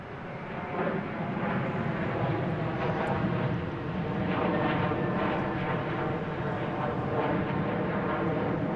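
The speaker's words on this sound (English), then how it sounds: "JetBlue flight 777 and A321 heading to Las Vegas." A JetBlue Airbus A321 jet airliner at Boston Logan Airport gives a steady, loud engine roar that holds and swells slightly with no break, heard from the ground.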